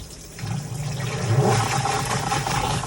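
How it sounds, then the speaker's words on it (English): A backyard chicken plucker machine runs with its water supply on, giving a loud, steady rush of spraying water over a low motor hum that continues throughout. "turn the plucker on."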